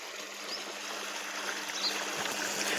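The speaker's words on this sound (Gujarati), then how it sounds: "તો આ જો અહીંયા પાણી ચાલુ હે ને મરચામાં જાય।" Irrigation water runs through a farm channel into a chilli field in the morning, a soft continuous trickle and gurgle heard fairly faintly and without voices.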